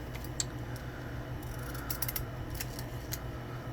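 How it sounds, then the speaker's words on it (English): Scalloping scissors cut decorative edges into paper ephemera on a masterboard, giving a series of short, faint, crisp snips in an uneven rhythm over a quiet background. "So I'm going to come in here with some scalloping scissors."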